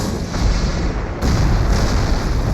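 Heavy artillery fire on German positions in a battle: continuous loud, dense booming rumble with deep low-end pounding that grows heavier partway through, no speech.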